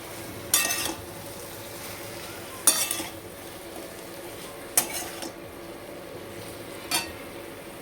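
Vegetable stalks tossed into a hot pan and stirred with a metal utensil: four sharp clinks and scrapes spaced a couple of seconds apart over a faint, steady background sizzle.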